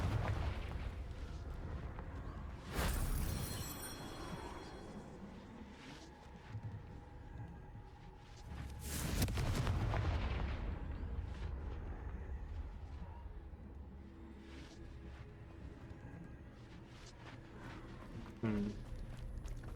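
Confringo fire spell blasting rocks in the Hogwarts Legacy video game, two heavy booming explosions with rumbling debris over a continuous loud game soundscape, plus smaller crackling impacts.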